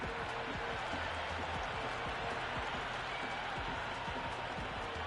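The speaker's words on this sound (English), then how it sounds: "You listen to that crowd. They are loving this." Stadium crowd roaring after a six is struck over the boundary in the Cricket 26 video game, India versus South Africa T20 warm-up in Mumbai; a dense, steady wash of cheering and clapping fills the whole stretch without letting up.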